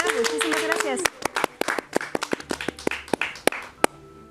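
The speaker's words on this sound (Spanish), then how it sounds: "Un aplauso" Clapping breaks out at the close of a Sunday television show, first sounding under a speaking voice and then continuing as scattered individual claps with uneven gaps that thin out before stopping.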